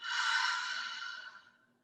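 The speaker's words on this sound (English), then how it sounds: "take a few deep breaths before we get into that breathing exercise again. So nice deep in through the nose and out through the mouth" A slow, deep breath drawn in through the nose and let out through the mouth during a meditative yin yoga session, one soft, airy exhalation close to the listener that fades out over about two seconds.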